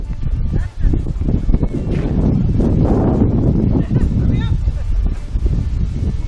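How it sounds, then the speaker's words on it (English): Strong wind buffets the microphone in loud, rumbling gusts, with faint voices partly buried underneath. "it's a windy morning"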